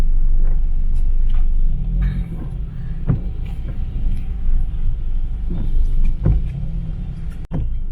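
A car rolls through slow traffic on a wet day in Cebu City, Philippines, its engine a steady low rumble with tyre swish, passing vehicles and occasional bumps.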